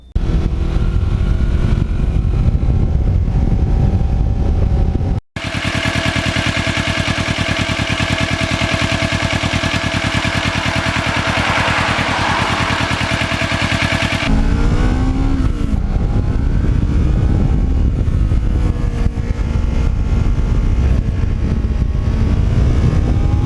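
A Kawasaki Ninja motorcycle, thirteen years old and fully customized, runs on a ride with loud, continuous engine drone and heavy wind rush; midway a sharp cut leads into a harsher, steadier roar, later shifting pitch as it changes speed.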